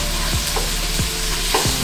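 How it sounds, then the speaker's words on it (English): Ground meat browns in a hot pan with cinnamon and star anise, a steady close sizzle broken by a few scraping stirs of a utensil, no voices. "you're gonna add in your meat and cook it until it's brown"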